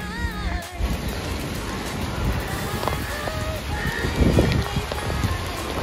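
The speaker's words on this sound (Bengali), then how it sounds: "finally rain is happening" Rain falls with strong gusting wind during a Kalbaishakhi storm, a steady close broadband wash with occasional gusty swells, and a faint voice is briefly heard near the start.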